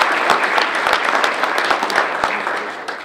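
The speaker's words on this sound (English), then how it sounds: "How about a round of applause for the board members?" Audience applause at a Metro South morning business gathering for board members, a steady dense wash of many hands clapping with a few sharper close claps, no talking over it.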